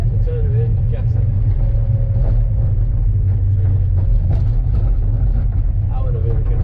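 A Mazda MX5 engine drones loud and steady through a drift, a deep continuous rumble with slight rises as the throttle opens, while a voice talks over it.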